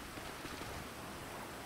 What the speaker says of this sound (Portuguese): Chovendo muito.